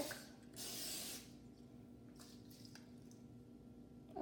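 A short hissing spray burst of cooking spray into a miniature bundt pan, close and fairly loud, followed by faint kitchen clatter and quiet room noise.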